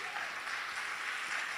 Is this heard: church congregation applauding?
yes